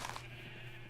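A Minecraft sheep bleats once, short and quavering, at moderate volume over a faint steady game hum.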